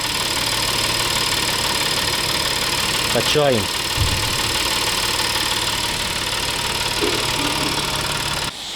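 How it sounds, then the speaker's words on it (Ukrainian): An Audi A6 C7 engine with a coolant leak idles steadily with a low, constant hum, and someone speaks briefly over it midway through. "Ось так працює двигунець."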